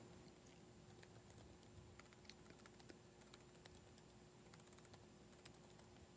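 Faint, sparse keystrokes tapped on a computer keyboard, irregular soft clicks in a quiet room with no talking.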